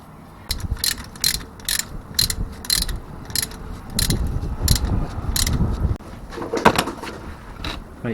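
Ratchet tightening the sump plug on a Classic Mini, with a rapid series of close, crisp clicking strokes in regular bursts, followed by heavier turning and clunks as the plug seats.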